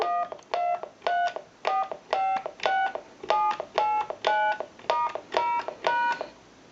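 Keypad dialing tones from a Spirit of St. Louis telephone on speakerphone, about a dozen distinct two-tone beeps in a steady, evenly spaced sequence, clear and close with no talking.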